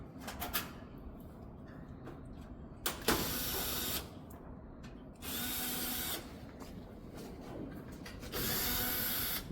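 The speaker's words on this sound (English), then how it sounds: "we're going to remove the back panel. It's typically Phillips screwdriver, Phillips screws," Power screwdriver driving Phillips screws out of an appliance's back panel, heard as three separate bursts of whirring, a few seconds each and fairly close, with quieter handling noise in between.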